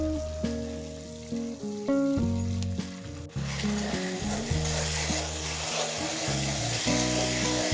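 Browned onion paste fries with ginger-garlic-green-chili paste for egg tikka masala. Background music runs throughout, and a brighter sizzle swells up beneath it partway through.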